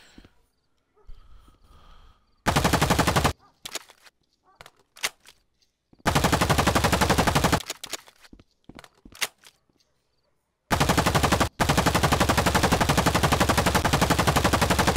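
Automatic gunfire in the video game Rec Room, several long loud continuous bursts broken by short gaps and a few single shots, close and dominant.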